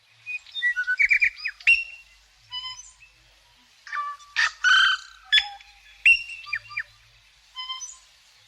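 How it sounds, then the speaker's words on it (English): A tui sings alone in clear, close phrases of liquid whistles, rapid chirps, bell-like notes and clicks, broken by short pauses. "Just for a moment, let's hear the wonderful Tui."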